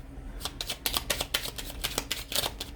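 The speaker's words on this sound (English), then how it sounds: "One more shuffle." Tarot cards are shuffled in quick riffling bursts, a string of crisp, close, fairly quiet flutters and snaps in an irregular rhythm, with no voices.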